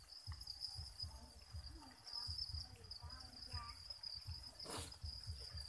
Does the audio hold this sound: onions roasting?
no